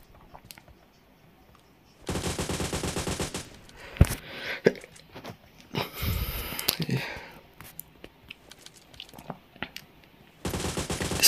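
Rapid automatic gunfire in a mobile battle royale video game, loud bursts near the start and end with scattered single shots and impacts between, while a player talks over the action.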